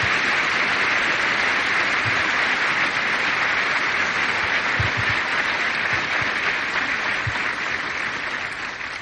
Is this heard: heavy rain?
no